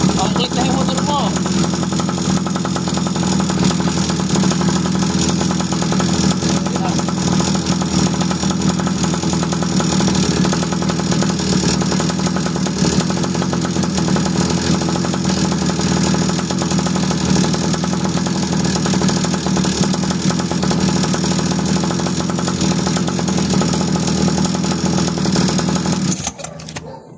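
A Honda Click scooter engine runs at a steady, loud idle for nearly half a minute, with a constant buzzing drone that cuts off abruptly at the end.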